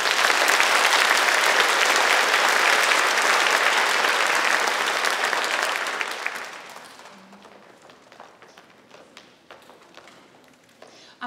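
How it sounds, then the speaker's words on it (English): Loud, steady applause from an elementary school awards assembly audience, sustained for about six seconds before dying away to scattered claps and room noise. "Give them one more round of applause."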